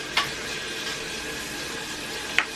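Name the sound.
bacon sizzling while stirred in a cast iron pan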